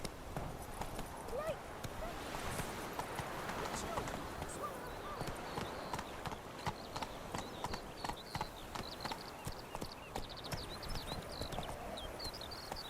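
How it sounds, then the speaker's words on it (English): Hoofbeats of the horse Roach galloping in The Witcher 3, a steady fast clip-clop rhythm under a busy outdoor game soundscape, with brief speech. "Run, Roach."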